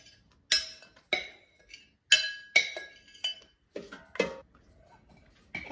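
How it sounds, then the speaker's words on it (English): Potatoes drop into an air fryer basket in a series of sharp clinks and knocks, about a dozen separate hits at an uneven pace, close and fairly loud, with no talk. "I'm just going to take out the air fryer bowl and put the potatoes in."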